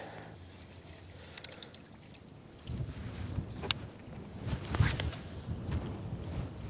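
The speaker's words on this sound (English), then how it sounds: "Cold isn't the problem, it's the wind." Gusty wind buffets a microphone on a lake during kayak bass fishing in a 10 to 20 mph breeze, low rumbling bursts rising midway, with faint water and boat knocks mixed in.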